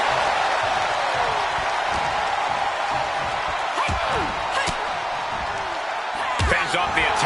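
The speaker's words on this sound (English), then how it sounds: "The WWE Universe is showing their appreciation for the action they're seeing." A video game arena crowd in WWE 2K26 roars and cheers continuously, a dense wash of noise with scattered sharp thuds and claps throughout.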